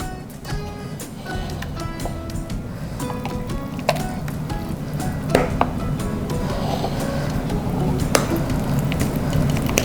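Thick vegan hummingbird cake batter being spooned into a bundt pan: soft wet plops and squishes with occasional sharp clicks of a spoon against the pan, close and steady, with no talking.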